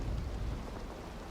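Steady rain in the medieval video game Kingdom Come, a dense, continuous hiss with low rumbling, loud and enveloping with no voices.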